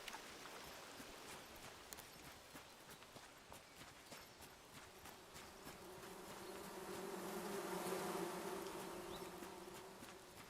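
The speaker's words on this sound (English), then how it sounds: "Well, I know where the bees are at." Bees buzzing in the video game Among Trees: a faint, continuous insect drone that swells louder in the second half, over soft footstep-like ticks.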